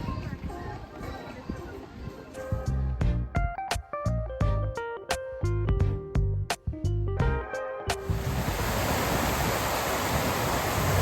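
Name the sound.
water splashing from fountain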